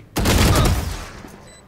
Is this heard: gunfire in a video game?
yes